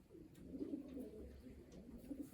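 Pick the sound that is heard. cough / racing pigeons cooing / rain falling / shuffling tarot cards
racing pigeons cooing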